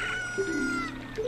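A crowing chicken from Zelda Ocarina of Time in randomizer mode gives a short, loud, drawn-out cry that rises and falls in pitch over a steady game background.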